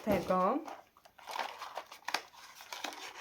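Plastic wrapping of a vlogmas advent calendar pouch crinkling as it is opened, several close rustling crackles following a brief spoken word at the start.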